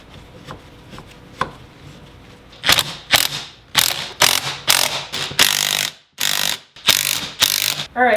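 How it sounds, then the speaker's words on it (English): Suspension coil spring being compressed for a lift kit on a 2020 Toyota Tacoma TRD Pro, giving a string of loud, close mechanical ratcheting and grinding bursts, sparse clicks at first and then dense repeated bursts with short gaps. "once we've got our spring compressed, which honestly was quite a bit of work"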